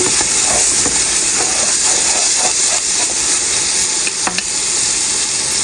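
Spice masala frying in a pan before beef is added for khichuri, a loud, dense, hissing sizzle throughout with stirring scrapes and a couple of clinks near the end.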